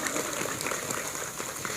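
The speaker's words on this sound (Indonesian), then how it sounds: "khusus muslimat, tepuk tangan dulu dong buat santri dong" Muslim women in an Idul Fitri gathering audience clap for the santri, a steady, fairly faint wash of applause heard from a distance in a reverberant hall.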